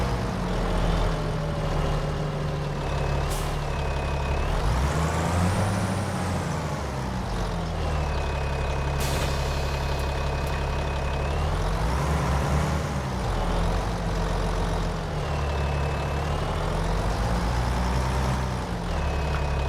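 A truck in Farming Simulator 25 backing a trailer on a Louisiana farm, its engine droning steadily with rising and falling revs, a hissing air brake and a thin reversing whine, loud and continuous.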